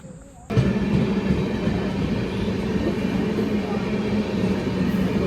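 A train passes at a busy railway station, its steady rumble and clatter of rolling wagons starting abruptly and holding loud and close throughout.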